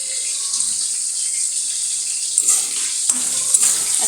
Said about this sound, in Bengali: এই যে মাছগুলো একটু ভাজতেছি আমাদের জন্য।